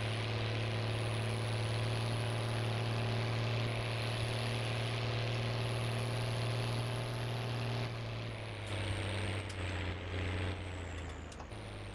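A tractor engine runs during sunflower sowing on an Argentine farm, a steady low droning hum with a constant tone that shifts and roughens near the end.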